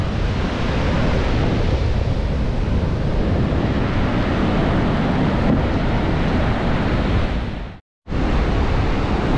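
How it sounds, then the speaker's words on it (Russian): Strong wind roars continuously into the microphone by the sea on the Oregon coast near Tillamook, a dense rushing blast that cuts out for a moment near the end. "Ветер жесткий, что прям глаза слезятся."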